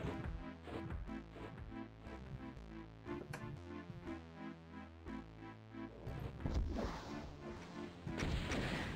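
Rocket launcher explosions in DOOM (1993) go off as a quick run of loud, blasting bursts over a busy, dense bed of game sound with no talk.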